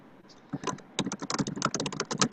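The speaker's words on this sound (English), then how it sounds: "who's typing?" Rapid keystrokes clatter on a computer keyboard close by, starting after a brief pause and continuing in quick irregular bursts.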